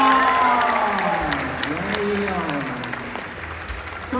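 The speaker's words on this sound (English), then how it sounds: "he wants a big round of applause." An audience gives a round of applause at a children's show with a Pumbaa character, a dense clapping wash that fades slowly while a voice talks over it.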